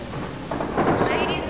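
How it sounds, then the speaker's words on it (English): Thunder rumbles and rolls under steady rain in the video game Jurassic Park: Operation Genesis, a brief loud swell that builds midway and lingers to the end. "What's this weather we're having here? Thunderstorm and rain and rain."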